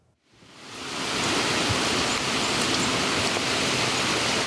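Spring rain falls at night in the Maine woods near Bridgton, a dense steady hiss that swells in over the first second and then holds loud and even, with no voices.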